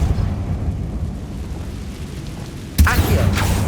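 Casting the Depulso spell in Hogwarts Legacy produces a sudden booming impact near the end, loud and close after a low rumbling background.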